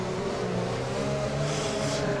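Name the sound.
race car engine in a video game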